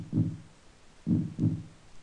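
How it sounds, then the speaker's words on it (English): Low, thudding heartbeats sound in the Terranigma video game, one deep pulse followed after a pause by a quick double beat, close and muffled with no voices. "just hearing the heartbeat in this game is very haunting at times"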